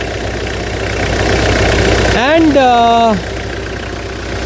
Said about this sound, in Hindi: तो this is a BS2 engine